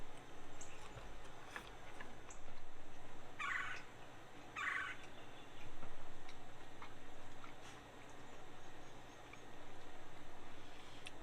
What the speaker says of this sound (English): You can hear the mama singing in the tree there.